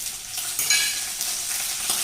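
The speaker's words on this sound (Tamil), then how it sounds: "இப்போ பூண்டு வதங்கிட்டு இருக்கும்போதே நம்ம சின்ன வெங்காயம் கொஞ்சம் சேர்த்துக்கலாம்." Garlic and whole small shallots sauté in hot oil in a pan, a steady close sizzle with occasional stirring scrapes and no talking.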